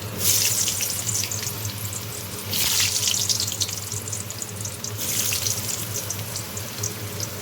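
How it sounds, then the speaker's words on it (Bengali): Potatoes fry in hot oil with a continuous, close crackling sizzle that swells in a few louder surges, with no voices. "এবার আমার তেল গরম হয়ে গেছে প্রথমে আমি আলুটা ভেজে নেব"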